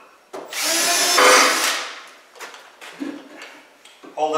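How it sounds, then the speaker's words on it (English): A power drill with a 3/8 inch bit whirs loudly for about a second and a half, drilling through, then fades into scattered clicks and handling noises. "we'll take our 3/8 bit and we'll drill right through"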